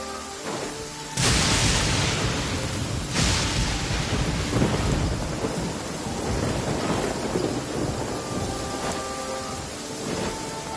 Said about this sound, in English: Before the resounding thunder, evil must cower in fear.